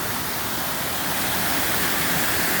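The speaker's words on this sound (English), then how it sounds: "there's another pretty good fall right there" Waterfall at Dunn's Falls in Maine, a loud continuous broadband rush of falling water, steady and close, with no voices.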